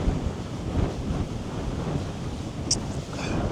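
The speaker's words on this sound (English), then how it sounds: "It is windy. It's horrible." Strong wind batters a microphone outdoors at Costa Teguise in Lanzarote during a yellow weather alert. It makes a loud, continuous roaring rumble with buffeting gusts and no speech.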